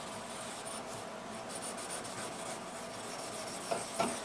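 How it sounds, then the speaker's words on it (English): A steel chisel blade is rubbed back and forth flat on a sharpening stone, giving a soft, steady gritty scraping with slight rhythmic swells and a couple of small clicks near the end, close and quiet. "All we're trying to do is flatten the bottom side of the blade."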